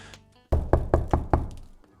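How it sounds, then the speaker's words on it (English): Five firm knocks on a door, loud and close, in a quick even rhythm after a faint rustle, with no voices. "there was a knock on the door"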